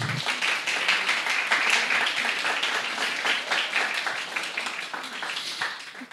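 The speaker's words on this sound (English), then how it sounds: "Please give each other a big round of applause." Sustained applause from a crowd at an arts roundtable, many hands clapping densely and steadily at a fairly loud level before tapering slightly at the end.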